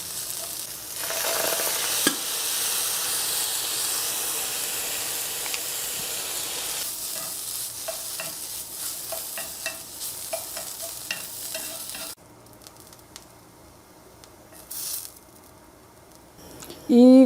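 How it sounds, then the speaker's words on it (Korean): Noodle ingredients stir-fried in a pan with soy sauce and pepper give a steady loud sizzle and hiss, with clattering stirring that quiets toward the end; a voice speaks briefly under it. "어쨌든 진간장에 조금 볶겠습니다. 후추 넣고 조금 약간 고시하게 볶아도 괜찮을 것 같아요."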